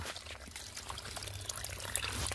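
Water running from a forest spring where cattle come to drink, a steady close pouring trickle with a low rumble beneath, no voices.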